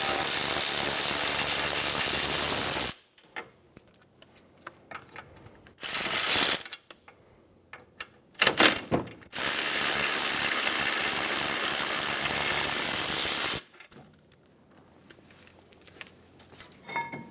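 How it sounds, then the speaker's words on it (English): Long, loud runs of rapid ratchet clicking as a 22 mm socket backs out the caliper bracket bolts on a 2003-2007 Infiniti G35, broken by short pauses and quick bursts. "Using a 22mm socket, remove the caliper bracket bolts."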